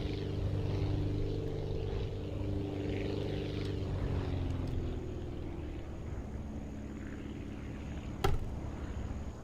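Propeller airplane engine in the video game Aviassembly drones steadily and loudly with layered harmonic tones that shift in pitch as the throttle changes, with a brief sharp click near the end and no talk.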